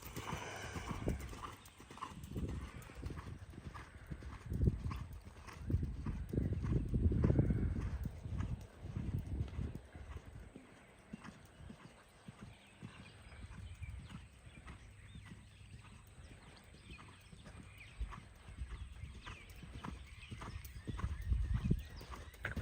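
Hooves clip-clop in a steady canter rhythm during horse riding training, close and continuous, with a brief whinny and no one talking.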